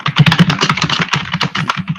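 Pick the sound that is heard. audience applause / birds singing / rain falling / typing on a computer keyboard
typing on a computer keyboard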